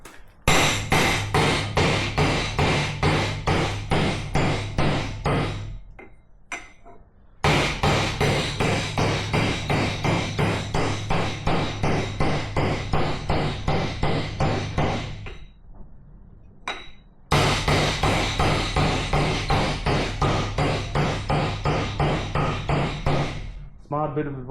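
Steady metal hammer blows ring out on a vise during axe making, falling in fast, even bursts of about a dozen strikes, with two short pauses between runs; loud and close.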